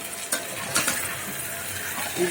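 Dried kachki and ghora shutki fish with potatoes sizzling in a pan while being stirred, a steady hiss broken by a few sharp scraping clinks, close and moderately loud with no talking.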